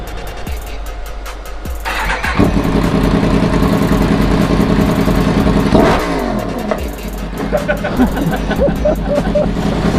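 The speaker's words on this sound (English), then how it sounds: "I'll start it once so you can hear it. Dad wants to hear what it sounds like with the pipe." Yamaha FZ10 motorcycle with a link pipe fitted in place of the cap, engine starting and settling into a loud, rumbling idle at close range, with brief blips and people talking nearby.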